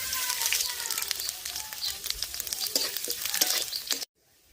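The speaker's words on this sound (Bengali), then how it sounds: "এবার ফোড়নে আমি গরম মশলা নিয়েছি, জিরে নিয়েছি, হিং নিয়েছি, আর তেজপাতা নিয়েছি।" Garam masala, cumin, asafoetida and bay leaf sizzle in hot oil in a kadai, a close, dense frying hiss with crackles and stirring scrapes that cuts off abruptly after about four seconds.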